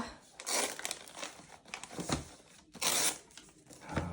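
Wrapping paper being crumpled and torn while presents are opened at the grandparents' home: close, crackly bursts of crinkling that come and go in uneven waves, quiet between handfuls.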